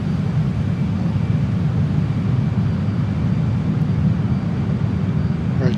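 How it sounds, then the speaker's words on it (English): A fixed-wing aircraft's engine roars at full military power during the takeoff roll, a loud, steady, dense low rumble with a broadband hiss, close and unbroken. "So wheel brake off and throttle up. Trying to do a mil power takeoff this time."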